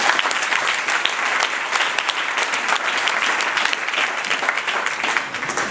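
A church congregation breaks into steady, dense applause for the Lord during a Sunday service, clapping continuously and loudly throughout with scattered voices in the crowd.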